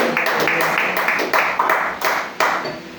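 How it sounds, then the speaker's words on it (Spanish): A church congregation claps together during a worship service, a sustained wash of applause with sharp hand slaps standing out, loud and close, with a voice faintly present underneath. "Oh, dale fuerte el aplauso al Señor"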